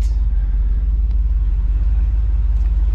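A pickup truck beside a gas station pump idles with a deep, steady engine rumble, loud and close, holding at the same level throughout.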